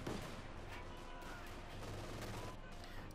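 Machine gun and autocannon fire in a Company of Heroes 2 real-time strategy match, heard as dense, continuous distant battle bursts with a faint commentator voice underneath.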